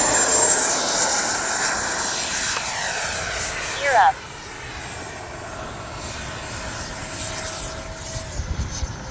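A Freewing MiG-29 80mm electric ducted-fan RC jet flies past under dark skies with a high whining turbine note. The whine shifts in pitch as it passes, with a short burst of noise midway and faint background sound.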